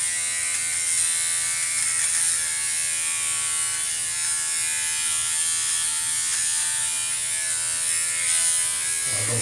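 An electric nose trimmer buzzes continuously with a high, steady whine, close to the listener and unchanging for the whole stretch with no talking.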